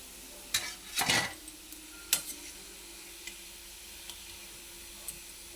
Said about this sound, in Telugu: అన్నిట్లా మంచిగా గోల్డెన్ కలర్ వచ్చినాక ఫ్రై చేసుకోవాలి కలుపుతూ